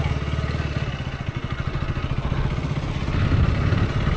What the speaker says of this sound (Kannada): ಇಷ್ಟು ಸ್ಮೂತ್ KTM ಫುಲ್ ರಿಫೈನ್ ಮಾಡ್ಯಾರ ಇಂಜಿನ